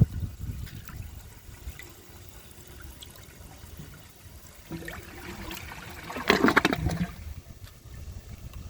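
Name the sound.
AquaSource toilet flushing with handle held down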